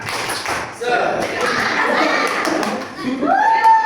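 A classroom group of children clap and chant the tepuk semangat clap routine, rhythmic hand claps mixed with their voices calling out together, close and lively.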